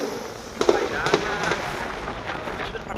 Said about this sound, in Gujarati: દિવાળીના દિવસમાં બમ બમ ફટાકડા ફૂટે